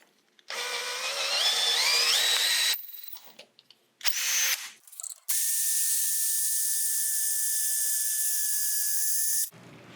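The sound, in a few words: drilling a hole through knife handle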